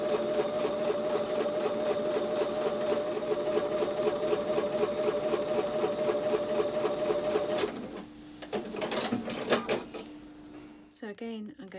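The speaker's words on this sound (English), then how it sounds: "So I'm going to take these back over to the sewing machine and sew with a 1/4 inch seam." A sewing machine runs steadily, stitching quilt pieces with a 1/4 inch seam in a fast, even whirring rhythm, then stops and gives way to a few handling clicks and rustles.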